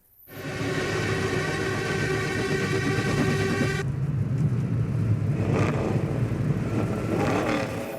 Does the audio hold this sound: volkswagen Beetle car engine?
yes